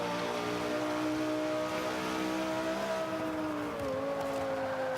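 A 2005 Honda NSX-R engine in the racing game Forza 5 holds a loud, steady drone, pitch gliding slightly up and down as the car drives, with no talk over it.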